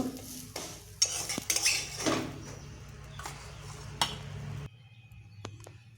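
A pan of cooked cabbage is handled and lifted off the stove, close clanks of metal utensils and pan knocks with a few sharp scrapes over a soft sizzle, then quieter with a couple of light taps.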